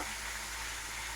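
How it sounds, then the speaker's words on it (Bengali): Prawns frying in oil, giving a dense, steady hiss of close sizzling that holds evenly for about a second. "ওই তেলের মধ্যেই আমরা চিংড়ি মাছগুলো দিয়ে দেবো।"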